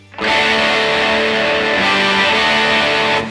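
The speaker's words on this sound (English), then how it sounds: "And now Rat distortion." Electric guitar through a Rat distortion pedal strums in and sustains a thick, saturated chord, loud and steady, then cuts off.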